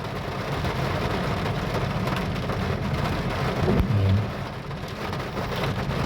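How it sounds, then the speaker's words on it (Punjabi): Steady rain hisses and patters continuously, fairly close, with a low rumble swelling briefly partway through. "ਮੀਂਹ ਜਾਣੀ ਕਿ ਫੇਰ ਆ ਗਿਆ"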